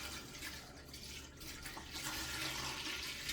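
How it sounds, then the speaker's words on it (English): Apple cider being poured from a half-gallon jug into a pot, a steady rushing liquid stream close by that swells louder toward the end, with no talking. "Now he's going to add in the gallon of apple cider."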